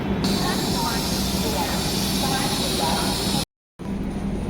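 Steady rumble of the Kathgodam Shatabdi Express (12040) running between stops, continuous and fairly loud with a brief cutout near the end, while a voice talks over it.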